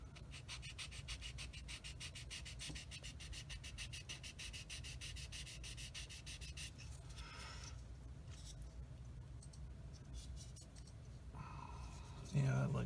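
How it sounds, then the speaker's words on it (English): Rapid, steady back-and-forth rubbing of a sanding stick on a hard plastic 1/35 Tamiya M2A2 Bradley model kit, close and continuous, with a brief pause near the end. "Let me hit it with a sander here, sanding stick"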